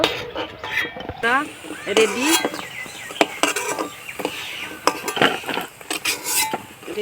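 Metal utensils clink against a frying pan as fried spinach-leaf (pui shak) pakoras are lifted out, scattered clicks under someone speaking Bengali nearby.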